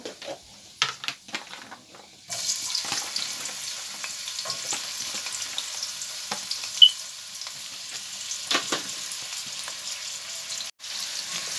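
Chopped onions and panch phoron spices frying in hot oil in a home kitchen pan, a steady soft sizzle with occasional faint clinks and stirring, fairly quiet and without talk.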